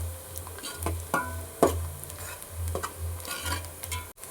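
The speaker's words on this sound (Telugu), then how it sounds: "ఇప్పుడు ఈ ఆనియన్ గోల్డెన్ బ్రౌన్ కలర్ వచ్చేంత వరకు వేయించుకుందాం" Onions fry in a pan until golden brown and are stirred with a spoon, giving rhythmic scraping strokes and a light clink over a low sizzle.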